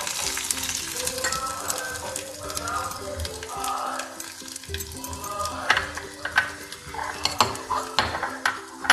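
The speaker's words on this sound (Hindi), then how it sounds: "हमारा जीरा भी चटकने लग गया है।" Cumin seeds crackle and sizzle in hot ghee, a steady frying hiss with sharp pops growing more frequent toward the end, close up and alone.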